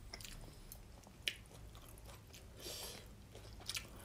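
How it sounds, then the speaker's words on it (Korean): Chewing while eating beef brisket at a Korean meal with doenjang stew and jjolmyeon, heard as faint, intermittent crunchy bites and soft mastication close to the mic, with no talk. "우리 차돌박이 먹어요."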